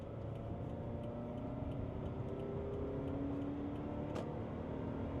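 A car being test-driven on the road with its engine running quietly: a smooth, steady drone with a slowly rising hum and faint ticking throughout, and no talk.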